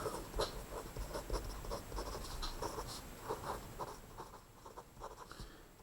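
A pencil scratches across paper while sketching a graph, with quick irregular strokes and taps, close and faint.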